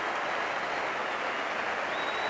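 Cricket crowd at a 1996 Australia v West Indies one-day international applauding batsman Paul Reiffel, a distant, even roar of stadium clapping held steady throughout, moderately faint and without clear speech.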